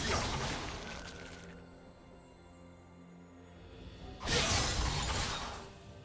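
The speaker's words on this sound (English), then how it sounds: "Blue team's turret has been destroyed." A turret is destroyed in the video game League of Legends, with a loud shattering crash followed by a long lower rumble and then a second bright, crumbling burst of breaking debris, heard alone without voices.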